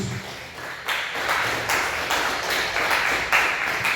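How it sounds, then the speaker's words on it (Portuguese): Congregation in a church service breaks into sustained applause, a dense wash of hand claps that swells and continues steadily through the whole stretch, fairly close and without voices on top. "Vamos aplaudir Jesus"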